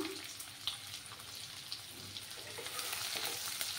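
Onion frying in a pan for a radish-greens fish jhol, giving a continuous soft hiss of hot oil with faint scattered crackles, fairly quiet and unbroken, with no talking.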